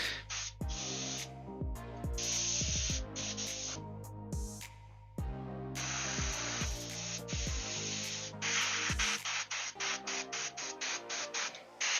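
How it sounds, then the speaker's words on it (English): Airbrush spraying paint onto a miniature, a close hiss broken into many short bursts with sharp clicks and knocks between them, growing choppier toward the end as the nozzle starts to clog. "that is starting to really block up the airbrush a little bit"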